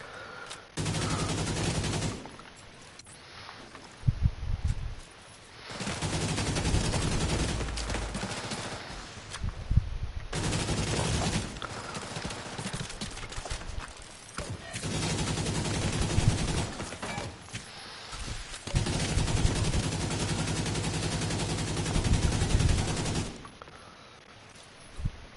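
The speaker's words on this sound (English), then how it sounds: "he's trying to shoot at me" Gunfire in the shooter game The Division 2 comes in loud, dense automatic bursts, repeated volleys separated by short quieter gaps, the rattling fusillades dominating throughout.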